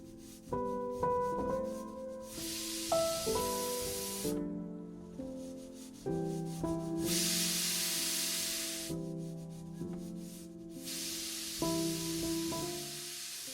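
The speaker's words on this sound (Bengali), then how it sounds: "প্রেসার কুকারের ঢাকনা বন্ধ করে দিয়ে গ্যাসের ফ্লেমটাকে হাইতে করে দিয়ে 2 থেকে 3টে সিটি দিয়ে আমি আলুটাকে সেদ্ধ করে নেব" While garlic dum aloo cooks on high gas flame, a pressure cooker lets out three long bursts of loud steam hiss, each lasting a couple of seconds, with music playing underneath throughout.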